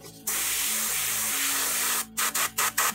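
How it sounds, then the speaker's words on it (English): An airbrush sprays thin paint onto a painted miniature's thatched armor. A close, steady hiss runs for about two seconds, then four short, evenly spaced bursts follow, with no talking. "I'm just gonna come in and spray this into the transitional areas"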